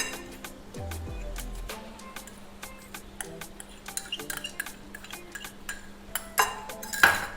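A spoon stirs chopped onion into mashed avocado in a bowl, giving scattered light clinks and taps against the bowl over a low steady hum. The clinks grow sharper and louder toward the end.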